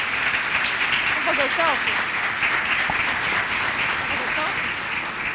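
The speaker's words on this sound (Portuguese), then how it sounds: "Peço uma salva de palmas" Dense continuous applause from an audience at an entrepreneurship fair talk in São Paulo, loud steady clapping throughout, with a few people talking and calling out underneath.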